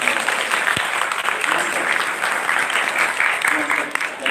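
Steady audience applause fills a school hall at an Islamic Nuzulul Qur'an commemoration, with voices murmuring underneath and one sharp knock early on.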